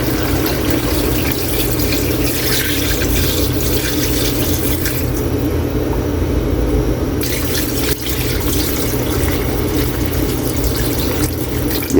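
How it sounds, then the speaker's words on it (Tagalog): Rice washing water poured steadily into a pot of pork tinola broth, a loud, continuous close splashing gush that barely changes across the clip, no talk. "Hugas bigas natin, ilalagay na natin."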